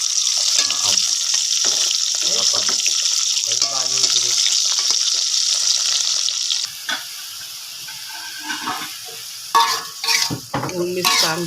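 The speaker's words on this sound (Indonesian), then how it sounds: "numis kangkung" Water spinach (kangkung) is stir-fried in a pan, a loud continuous hissing sizzle with scraping stirs, then quieter clatter of utensils and spatula knocks near the end, close up with a voice speaking briefly.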